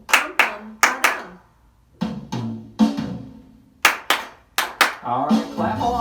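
Children at a library storytime clap along in a rough rhythm, a series of loud, close claps in uneven groups with short gaps, some voices mixed in near the end.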